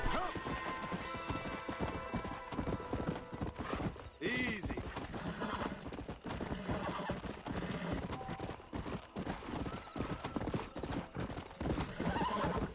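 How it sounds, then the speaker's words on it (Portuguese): Hooves clip-clop at a gallop in Red Dead Redemption on Xbox 360, a close, continuous rhythmic beat broken by a loud whinny partway through, with game music and faint talk underneath. "Opa, ganhei um cavalo novo!"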